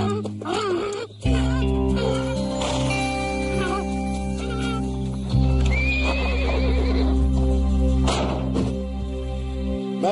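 A horse neighs and whinnies repeatedly, close and loud, over steady clip-clop hooves, with a low continuous drone and a voice talking in the background.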